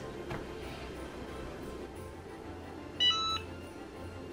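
A heat press gives a single electronic beep tone for about half a second while heating, amid steady low background hum, with a faint click at the end.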